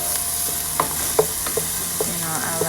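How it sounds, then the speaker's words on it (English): Onions sauté in a pan for beef empanada filling, a steady sizzle running throughout while a wooden spoon scrapes and knocks against the pan in several distinct strokes, close and clear with no talking. "So first I saute the onions. A wooden spoon."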